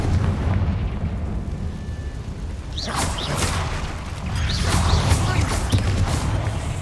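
Spell explosions in the video game Hogwarts Legacy, a few heavy booming blasts and crashes bursting over a rumbling game soundscape, fairly loud and close, with no talking.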